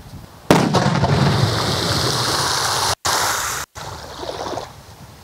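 A sudden loud burst from a water firecracker exploding underwater sets off a long rushing, splashing roar of water that continues for several seconds, broken by two brief cuts.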